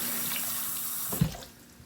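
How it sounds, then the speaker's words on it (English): Tap water runs steadily over a crab being rinsed clean in a sink, a continuous close splashing hiss with a brief louder splash partway through before the flow eases off slightly. "So I'm just rinsing all that to clean it."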